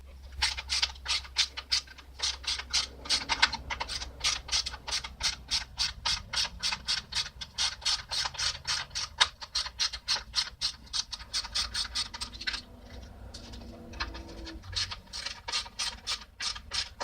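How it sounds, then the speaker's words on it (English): A hand ratchet loosens 10 mm bolts on the stock skid plate of a Honda CRF250L motorcycle, rapid close clicking strokes repeating in bursts, pausing briefly near the end before resuming. "to get the OEM skid plate removed, we are going to have to take these two bolts out"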